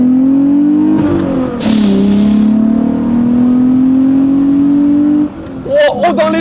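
A Volkswagen Golf VR6 engine pulls hard on the road, a loud rising drone climbing steadily in pitch under acceleration, with a gear change early on and a brief lift-off near the end before revving again; a voice talks over it.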